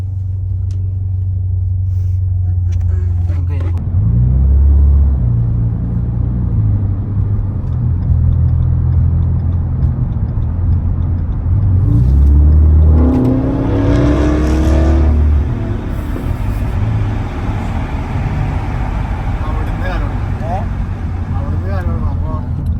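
A Ford Mustang drives with a steady low engine rumble, rising into a couple of throaty revs mid-way before settling back to a cruising drone; people talk over it throughout.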